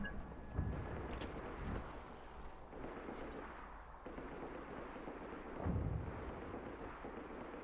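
Video game boomstick gunfire and explosions in Just Cause 3, with several heavy booms and blasts scattered over a rumbling battle background, some sharp bursts rising above the din.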